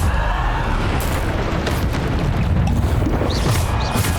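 A Descendo spell effect in Hogwarts Legacy gives a loud, sustained rumbling boom that fills the whole moment, with a few sharper bursts on top.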